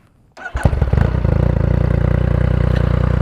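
A motorcycle engine with a modified exhaust baffle cranks and catches, then settles into a loud, throaty, rapid idle with a deep, pulsing exhaust note.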